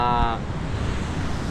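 Large ocean waves roll and wash in a low, continuous roar with gusty wind buffeting the microphone, preceded by a short tonal hum at the start.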